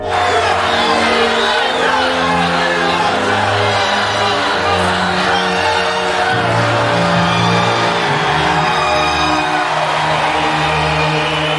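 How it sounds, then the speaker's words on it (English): A huge crowd at a political rally for a presidential hopeful shouts and cheers steadily, a dense roar that holds up under music-like tones for the whole stretch. "As he looked around at the adoring masses, a crowd the size of which he'd never seen before"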